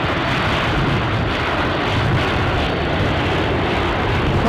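Widerøe Dash 8 turboprop at Aberdeen Airport, a loud, steady broadband engine roar with heavy wind buffeting filling the whole stretch, no voices over it.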